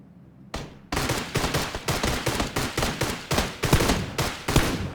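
Rapid bursts of gunfire in PUBG, a short shot, a brief pause, then a long run of sharp repeated shots with a steady rhythm, loud and close, with no speech.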